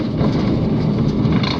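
Overlander passenger train climbing the Raurimu Spiral, a steady low rumble of wheels and carriage noise filling the whole stretch without pause.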